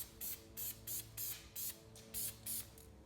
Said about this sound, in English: now this thing sprays out a ton of paint